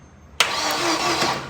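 A 1985 Ford Fiesta engine cranks on its starter with a sudden loud, close whirring grind that starts abruptly after a quiet moment and keeps droning to the end.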